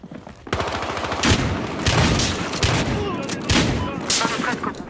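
Rapid pump-shotgun blasts in Battlefield Hardline multiplayer, a quick run of loud, sharp booms fired in close succession at near range, with brief gaps between shots.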